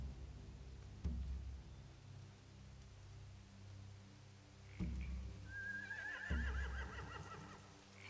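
Horses neighing and whinnying in The Walking Dead video game, with several sharp thumps and a high wavering whinny near the end over a low ambient rumble and soft rain-like hiss.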